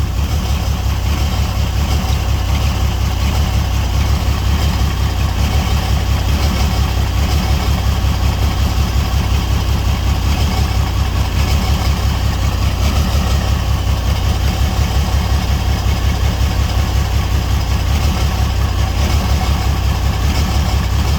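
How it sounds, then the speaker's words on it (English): A car engine with a misfire idles steadily and close by, its low rumble carrying an uneven, stumbling pulse throughout. "The motor's got a miss in there."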